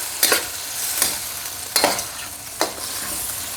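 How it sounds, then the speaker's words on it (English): Pork and shrimp egg roll filling cooking in a pan, a soft continuous sizzle broken by four distinct spatula scrapes against the pan, close and without talk. "all you want to do here is cook the pork and the shrimp until they're cooked right through"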